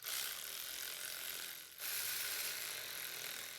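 Close ratchet wrench tightening starter motor bolts on a 2007-2011 Toyota Camry, a dense continuous clicking that breaks off briefly midway and then resumes at the same steady pace.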